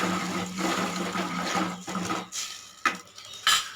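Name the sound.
stirring ground tomato and spice paste into sambar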